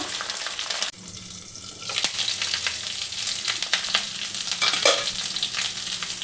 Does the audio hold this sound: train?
no